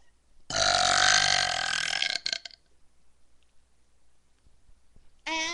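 Girl letting out a long, loud, drawn-out burp lasting about two seconds, followed by a few short gulping sounds, near silence, then a brief squeaky nasal noise at the end.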